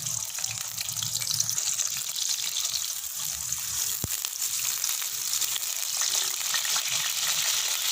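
Onions sizzle and crackle in hot oil in a wok, a steady bright frying hiss held at an even level throughout, with a single sharp clink partway through.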